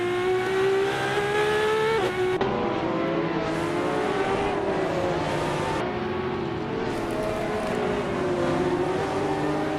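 Racing-game car engines, including a 1984 Ferrari 288 GTO Evoluzione, drone loud and continuous, with rising and falling revs, gear changes and faint tire squeal as the cars hold position in the pack.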